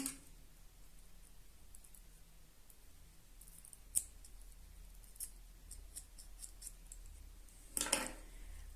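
Scissors snip excess crochet yarn in a quiet room, giving a few faint, sharp clicks spread over a low, hushed background.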